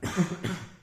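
A single person coughs at close range, a quick harsh burst of two or three hacks.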